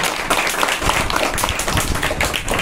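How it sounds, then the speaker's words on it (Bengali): Loud applause from a school audience for a student announced as top scorer in a quarterly assessment, a dense steady patter of many hands clapping close by for a couple of seconds. "জোরে হাততালি।"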